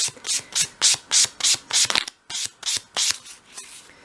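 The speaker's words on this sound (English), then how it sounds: "I'm then just going to tidy that up in my hand with a piece of 500 grade sandpaper." A small piece of 500 grade sandpaper is rubbed by hand along a 1/12th scale wooden dollhouse wardrobe moulding, giving about a dozen quick, close, rhythmic scratchy strokes with a short pause midway.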